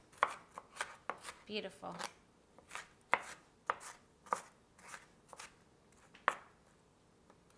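Onions are chopped on a cutting board in a quiet kitchen, a series of sharp, irregular knife knocks spaced roughly half a second apart, with a brief spoken remark partway through.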